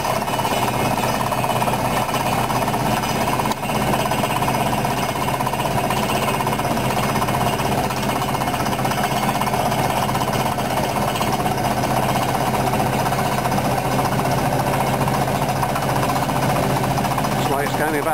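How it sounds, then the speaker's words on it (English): A rock drill pounds steadily through stone in a tunnel project, a loud continuous hammering rattle with engine drone, while a voice talks over it. "See the drill progressively descending there"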